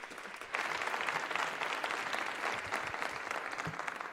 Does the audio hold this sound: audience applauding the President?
yes